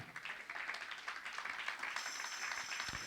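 Congregation clapping during a church prayer service, a faint, distant, continuous patter of many hands with scattered sharper claps and no voices.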